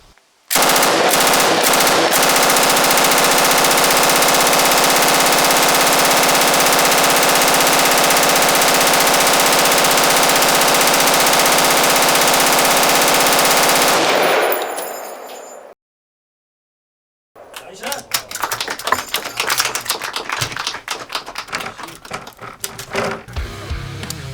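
A K15 light machine gun fires one long, loud, unbroken burst for about fourteen seconds after a few opening shots, then falls silent, and a rougher stretch of clatter and handling noise follows.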